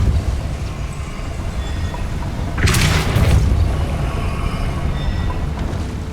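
Depulso spell cast in the Hogwarts Legacy video game, a single loud whooshing blast that bursts out over a low rumbling ambient background.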